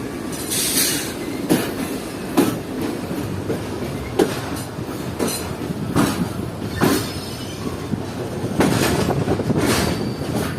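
A relief train near Karachi rolls past close by, wheels clattering in a steady rhythm on the rails with repeated sharp metallic squeals and screeches over a constant rumble.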